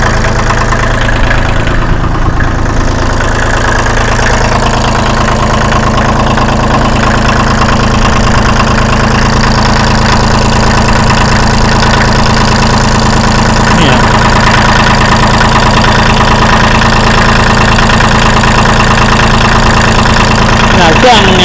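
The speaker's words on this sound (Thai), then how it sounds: "ตอนนี้ก็ไม่ต้องเหยียบคันเร่งเลยก็ติดนะครับ เสียงเครื่องนิ่มๆนะครับเครื่องนิ่มเลย" A second-hand Kubota L2201 tractor's diesel engine idles steadily and smoothly nearby, a loud constant rumble with a faint knock, as someone talks over it.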